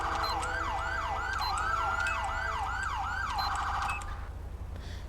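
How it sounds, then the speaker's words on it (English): Custom installed police sirens in the GTA V video game with the LSPDFR mod, a rapid rising yelp wail cycling steadily over a low engine hum, loud and clear, fading out near the end. "what you hear here, these sirens, that's not default"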